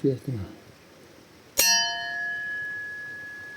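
A freshly riveted steel hoe blade, just sharpened on sandpaper, is struck once and rings with a bright, sustained metallic tone that decays slowly, preceded by a couple of soft handling knocks.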